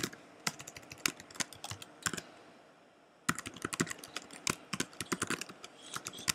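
Quick, close clicks of fingers typing on a computer keyboard in irregular bursts, pausing briefly about halfway before resuming at a steady pace.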